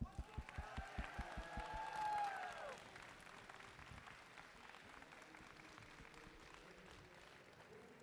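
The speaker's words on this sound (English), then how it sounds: "So I want to give yourselves a round of applause one more time," An audience claps and cheers at a fighting game tournament's top 8 finals. Dense clapping bursts come in the first few seconds, then the applause fades into a lower crowd murmur and room noise.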